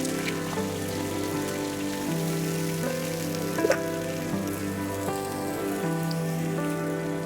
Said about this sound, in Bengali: লবণ হলুদ ছাড়া বেগুনটাকে ভেজে নিব